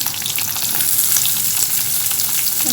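Small shallots sizzle steadily in hot oil with curry leaves during tempering for a mutton keema gravy, a dense continuous frying hiss held close and loud throughout without pause.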